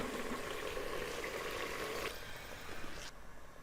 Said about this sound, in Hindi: अब इसमें जितना आपको पानी चाहिए, जितना मतलब कि आपको शोरबा चाहिए, उतना हम इसमें पानी ऐड करेंगे।